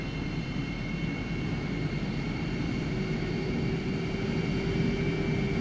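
A TF-104 Starfighter jet taxiing in a flight simulator, a steady loud engine roar with a constant whine, unbroken and without speech.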